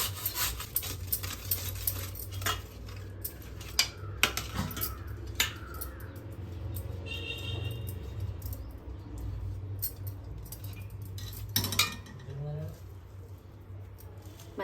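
Beetroot is grated by hand in a home kitchen, giving soft, uneven rasping strokes that are fairly faint, with scattered clatter and a few quiet background sounds.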